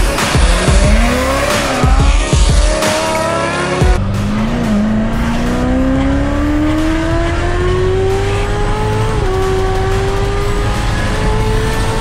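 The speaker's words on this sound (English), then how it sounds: "We're gonna take it for a drive." A supercharged Corvette drives fast, its engine roaring loud and close and rising in pitch through the gears, with tire noise and a rough, bumpy rumble underneath throughout.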